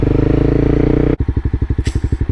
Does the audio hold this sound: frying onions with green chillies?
no